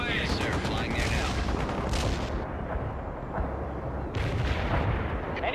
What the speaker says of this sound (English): Apache is moving below the tree, attacking as ordered.